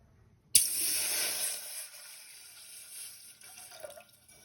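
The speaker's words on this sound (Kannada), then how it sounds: "ಈಗ ಅದಕ್ಕೆ 1 ಲೋಟ ನೀರು ಹಾಕ್ಕೊಳ್ಳೋಣ." Water tipped from a large glass into a pot on the stove: a sudden splash that becomes a steady pouring stream for about a second, then trickles and drips out, close and clear with no talk.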